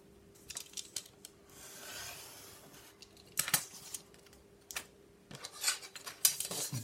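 Scissors trim the excess material from a small handmade notebook, giving quiet, close snips with soft rustling and scraping between the cuts.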